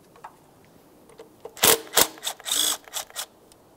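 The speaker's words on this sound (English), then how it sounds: "Now let's make our way right here with a 10 millimeter to disconnect these ground wires." A 10 millimeter ratchet working ground wire bolts in the engine bay of a 2003-2007 Honda Accord, giving a few quick clicking bursts of ratcheting close by, with quiet gaps between them and no talk.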